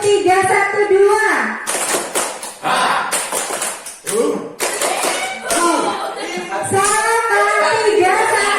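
Children in a classroom doing a counting clap game, sharp bursts of hand claps in short groups alternating with a teacher calling out counts and kids' voices.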